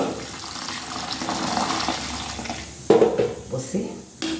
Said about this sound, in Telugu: హాట్ వాటర్ పోస్తాను ఇప్పుడు నేను ఇందులో